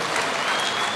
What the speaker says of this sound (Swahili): So karibu, tumpigie makofi Mheshimiwa Ichung'wah.